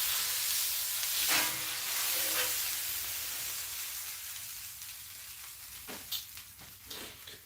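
Breakfast fries in a pan, the grease giving a steady, soft hiss and sizzle with steam, plus a few brief louder spatters and clinks toward the end, no voices.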